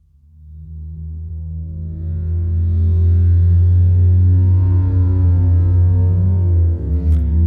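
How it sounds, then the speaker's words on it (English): A sample slowed down heavily with manual time stretch in a sound design mode, rising into a loud, sustained low drone with smeared layered tones, alone with no talk. "Another thing you can do in sound design mode is time stretch manually, using this control right here. So let's slow down this sample significantly."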